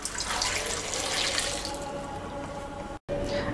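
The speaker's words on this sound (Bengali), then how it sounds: "3 কাপ পানি দিয়ে দিচ্ছি" Water pours steadily from a tap into a cooking pot, a continuous splashing rush with a brief cut near the end.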